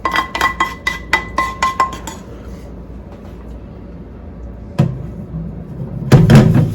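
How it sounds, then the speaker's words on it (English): Metal utensil clinking and scraping against a pan while brown butter bits are scraped into a bowl, several quick close clinks at first, then a quieter stretch, a single knock and a louder clattering scrape at the end. "we're going to make sure we get all of the brown bits out of the pan into the bowl"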